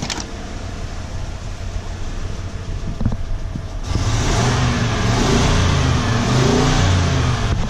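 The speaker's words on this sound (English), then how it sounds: "Let me rev it up." A 1995 Ford F150 4x4 pickup engine idles roughly and then revs up louder and steadier at mid-clip, a close rumbling drone with no talk.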